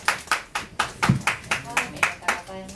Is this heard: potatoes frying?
no